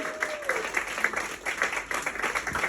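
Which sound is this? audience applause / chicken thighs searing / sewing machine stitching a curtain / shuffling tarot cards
audience applause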